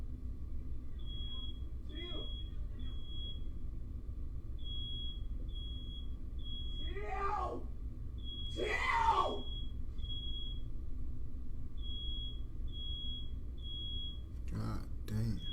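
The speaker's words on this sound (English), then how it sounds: "the fire alarm and everything went off" Smoke-detector fire alarm going off indoors after fireworks in a bedroom, sending short repeated high beeps in a steady pattern while people shout and scream loudly over it.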